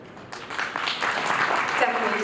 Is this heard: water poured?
no